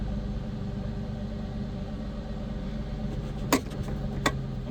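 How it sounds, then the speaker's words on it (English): A Mustang V6 engine idles with a steady low rumble, its revs sagging after a component is unplugged, with two brief sharp clicks or knocks near the end. "There you go, the revs are coming down."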